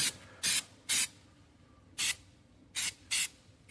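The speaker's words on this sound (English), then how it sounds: "How much spray?" Five short hissing bursts from an aerosol spray can, each about a quarter second long, separated by uneven pauses in an otherwise quiet room.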